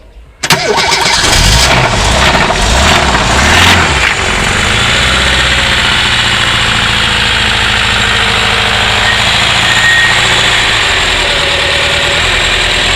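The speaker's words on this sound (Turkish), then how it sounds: "Şimdi marşa basacağız." A rebuilt car engine, cold, cranks with a starter whir and catches on the first try, surges loudly for a few seconds, then settles into a steady, close idle with a slight knock.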